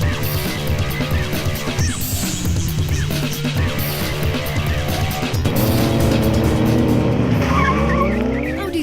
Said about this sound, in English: So let's have a look in this week's shootout how our cars fare on the quarter mile.